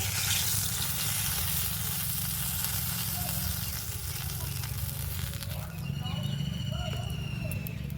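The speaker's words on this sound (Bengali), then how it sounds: "মাছগুলোও ভালো করে ভাজা হয়ে গেছে, দেখুন" Rohu fish frying in oil in a pan gives a steady, loud sizzle throughout, with a few clinks of utensils near the end.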